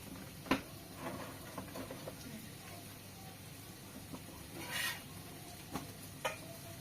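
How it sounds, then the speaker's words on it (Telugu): Chapati cooking on a hot pan with fried peas and garam masala nearby, giving a low steady sizzle with scattered light clinks and taps, a few sharper knocks, and faint background activity. "చపాతి కాలుతుంది"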